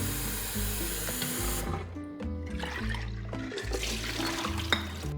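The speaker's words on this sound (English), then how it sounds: "give them a quick rinse, and drain again." Water runs and splashes over soaked pea seeds in a jar during rinsing and draining, a steady pouring stream with clinks and gurgles that shift and thin out.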